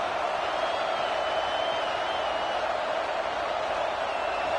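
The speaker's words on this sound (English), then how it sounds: "This crowd ready to make its presence known." Stadium crowd in a college football video game, a steady dense roar of massed voices at constant level with faint whistling tones, no distinct cheers or talk standing out.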